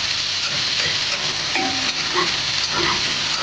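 Pork igado frying in a pan until it turns brown gives a loud, steady, close sizzle that runs without a break, with a few faint clinks underneath.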